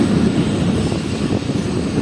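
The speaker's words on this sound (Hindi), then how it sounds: "जंगशाही रेलवे स्टेशन से निकल रही है शाह लतीफ़ एक्सप्रेस" Shah Latif Express pulls out of Jungshahi railway station on its inaugural Karachi to Mirpurkhas run, a loud, close, steady low rumble of the moving train filling the moment without voices.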